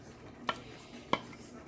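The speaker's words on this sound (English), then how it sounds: "Give it a stir." A spoon stirs rice and peas in a pot, giving two brief, sharp knocks against the pot about half a second apart over quiet background.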